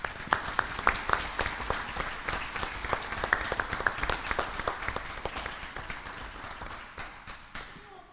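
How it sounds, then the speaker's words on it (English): Audience applause fills a meeting room for a group receiving an award of excellence in a newsletter category, with dense steady clapping and scattered sharper claps that thin toward the end. "Please help me give them a big round of applause"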